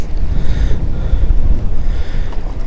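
Steady wind gusting across open water around a fishing boat during fall crappie jigging in Wisconsin, a continuous low rumble of wind noise on the microphone with no talk.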